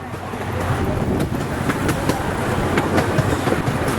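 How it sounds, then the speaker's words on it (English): Gasoline-engine amusement park train ride rolling through the woods at night, a steady mid-loud rumble and rattle of the cars over track with scattered clanks and clicks, no talking. "we're going on the train ride here through the woods at night"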